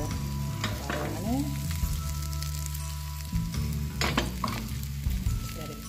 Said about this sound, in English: Transfer it onto the pan with the butter on